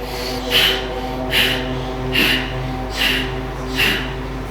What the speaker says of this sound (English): Breathe through the nose so you can actually hear yourself breathing.